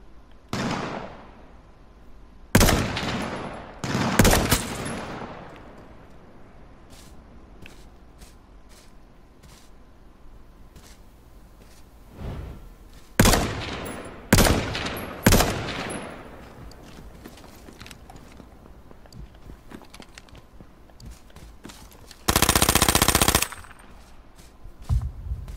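Bursts of gunfire in the survival shooter H1Z1, loud cracks and short rapid volleys scattered across the scene with quiet gaps between, ending in a sustained dense burst near the end.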